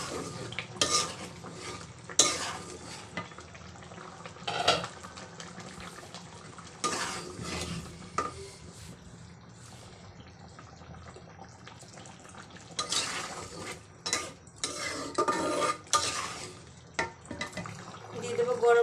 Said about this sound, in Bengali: এখন আমি নেড়ে দেবো